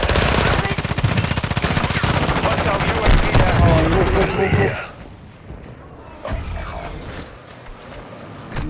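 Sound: gunfire from a gun in a video game

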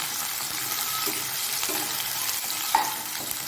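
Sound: onions frying in a pan

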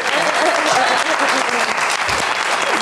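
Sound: studio audience applause for guests

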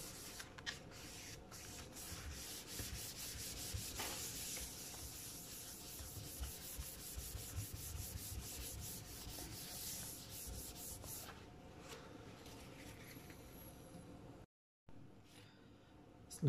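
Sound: cloth rubbing laptop clean with rubbing alcohol

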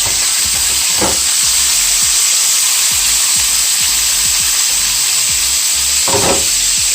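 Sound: green onion and onion stir-frying in oil

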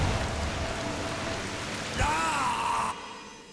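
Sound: waterfall in video game Darksiders II

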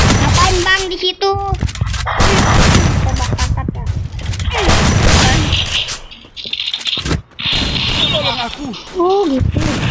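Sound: gunfire in the video game Free Fire

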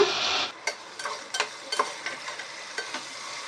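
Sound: sautéing crushed garlic, tomato and potato in a pan

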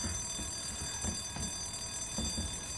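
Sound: loud alarm ringing in Resident Evil 2 video game

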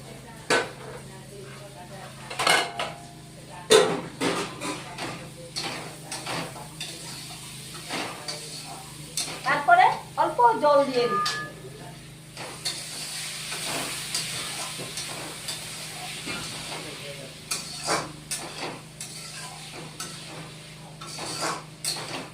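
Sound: bitter gourd frying and being stirred in a pan

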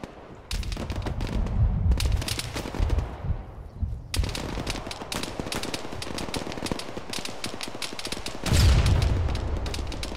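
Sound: RPG or cannon fire in the video game Arma

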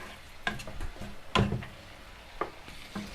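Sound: tomatoes cooking in a pan

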